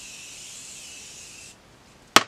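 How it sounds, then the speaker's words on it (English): A Morphe setting spray mists onto a face in one soft, continuous hiss lasting about a second and a half, then stops. A sharp click follows, and there is no talk. "Then I'm going to use my Morphe setting spray on my entire face."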